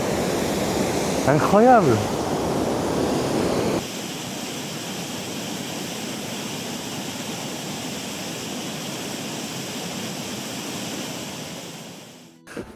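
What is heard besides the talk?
waterfall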